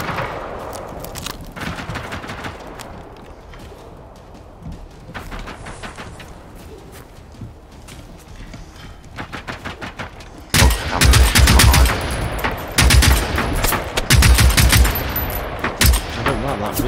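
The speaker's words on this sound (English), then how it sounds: "Machine gun, it's pretty good." Machine gun fire in the video game Generation Zero, with bursts of rapid automatic shots, a quieter stretch of scattered firing followed by heavier, louder close-range bursts.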